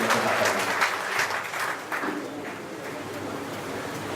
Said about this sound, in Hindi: तालियों से इस्तकबाल करें।